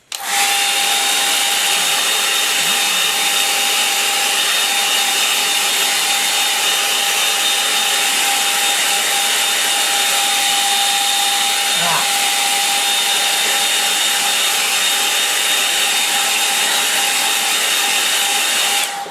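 A hair dryer blows steadily on a line-and-wash watercolour landscape to dry it, a loud, close, continuous whirring hum that runs unbroken for about twenty seconds with no talking over it.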